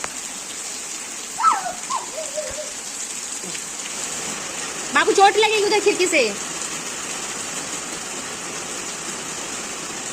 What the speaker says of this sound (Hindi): बारिश हो रही